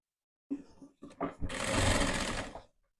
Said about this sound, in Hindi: यहाँ से हमने इसको सीधा स्टिच कर लेना है